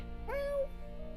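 A single short meow from a cat in the Metaphor: ReFantazio video game, clear and close, rising briefly before holding a steady tone, set against a quiet background of game music.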